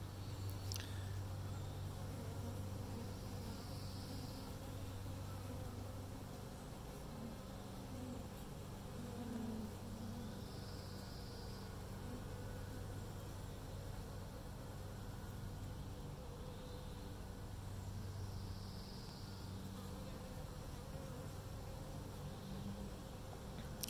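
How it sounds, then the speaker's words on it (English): Steady, continuous buzzing of many honey bees close by as a queen bee is released into the hive, a dense droning hum that lasts throughout with no talking. "I look at the reaction of the bees."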